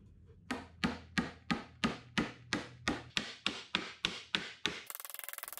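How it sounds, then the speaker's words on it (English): A solid oak dovetail tongue hammered down into its groove in a cabinet door panel, about fourteen evenly spaced sharp knocks in steady rhythm, close and clear, followed by a brief rapid buzzing at the end. "pounding that tongue down into the groove"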